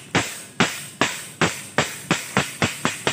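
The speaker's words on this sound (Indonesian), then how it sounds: "nah jadi udah selesai dipalu ya" Hammer blows ring out on a faulty crocodile jack that will not lift, about nine sharp metallic strikes coming steadily and speeding up slightly, close and loud, with no talking.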